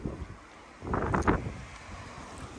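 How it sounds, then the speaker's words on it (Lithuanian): Strong wind rises ahead of a storm, buffeting the microphone with a low, rushing roar and one heavier gust swelling midway before settling back to a steady blow. "Vėjas dar labiau kyla."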